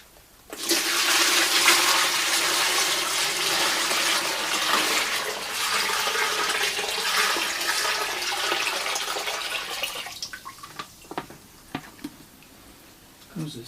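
Water pours steadily and loudly into a container for an electrolysis rust-removal setup for a shackle, running for about ten seconds before breaking into scattered drips and splashes.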